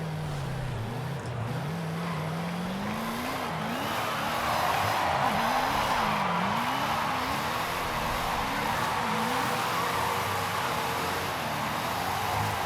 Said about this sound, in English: let's actually just try to drift this thing